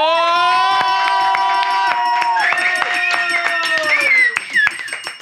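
A studio audience gives a loud round of applause, sharp claps running throughout under sustained whooping and cheering voices close by.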